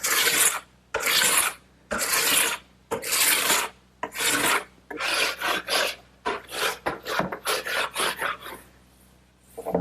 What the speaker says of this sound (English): So I'm just going to use a scraper and remove all that wax.